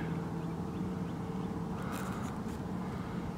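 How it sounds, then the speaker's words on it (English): Ducks quack on a lake at sunrise, a few faint calls drifting from a distance over steady outdoor background hiss. "Look at the ducks this morning."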